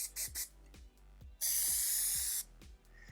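Plasti Dip aerosol can spraying through a new dip nozzle: a few short hissing bursts, then one sustained loud hiss of about a second, close and clear with no talking.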